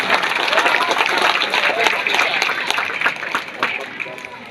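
Crowd applause for the organizing committee at a regional government gathering in Jawai Selatan, Sambas, a dense, steady wash of clapping with murmuring voices mixed in, loud and continuous before easing slightly at the end.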